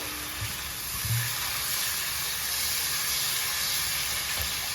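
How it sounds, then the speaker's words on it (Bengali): Water poured into frying spice masala for a fish curry sizzles and hisses steadily in a pan, a close, continuous spitting wash with a few brief louder bursts. "এবার আমি জল দিয়ে দেবো। জল দিয়ে দিচ্ছি পরিমাণ মতো।"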